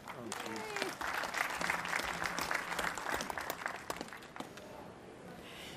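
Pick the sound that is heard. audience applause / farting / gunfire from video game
audience applause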